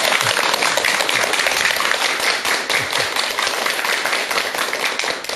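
Loud, dense audience applause before a lecture on mental health, a continuous wash of many hands clapping at once, sustained at a steady level throughout.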